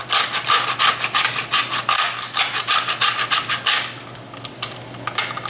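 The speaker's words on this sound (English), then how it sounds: "Goes in the grater like this," Hard ten-year-aged cheese is grated by hand, giving a loud, close, rhythmic scraping of rapid even strokes that slows and thins toward the end.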